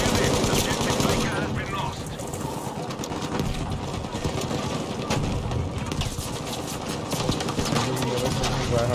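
Medium machine gun firing in Battlefield 5, a steady, loud run of rapid shots that goes on the whole time, with battle noise mixed in behind.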